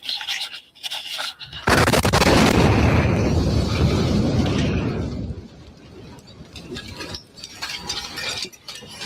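A large explosion in downtown Nashville on Christmas morning bursts in suddenly with a loud sustained boom and rumble that slowly decays, followed by faint radio chatter.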